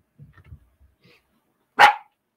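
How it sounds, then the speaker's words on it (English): A dog gives one loud, sharp bark nearby indoors, preceded by a few faint small rustles and near silence. "My dog's barking."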